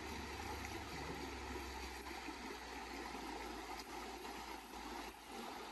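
Steady broadband rush of the Mixteco river flowing behind the church of Santa María Xochitlapilco, continuous and fairly close, with a low engine-like hum underneath and no talking.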